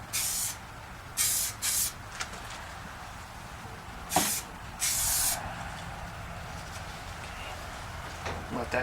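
Short bursts from an aerosol can of SEM bumper paint coat the headlight buckets of a 1986 Mustang GT, several sharp hissing sprays of a second or less separated by pauses, close and crisp over a faint background.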